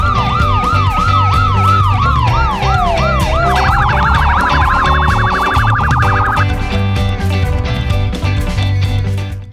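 Police car siren effect, loud and close, cycling through rapid wailing sweeps before switching to a faster yelp pattern, with no talk over it.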